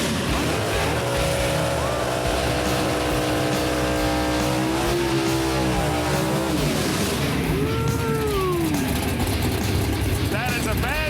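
Roaring engines of drag racing cars accelerating hard, with rising and falling pitch sweeps over loud continuous crowd and track noise.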